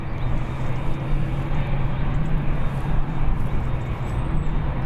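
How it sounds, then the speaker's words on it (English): Boeing Dreamliner airliner at Birmingham Airport, a steady broadband jet roar held at moderate distance for the full stretch without voices. "Old Dreamliner"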